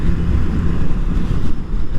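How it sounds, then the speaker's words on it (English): A Honda Shadow cruiser runs at about 70 mph on an interstate, buried under a constant loud roar of wind blast with a deep, steady rumble underneath. "I'm holding 70 with no problem, and the wind blast is not a problem."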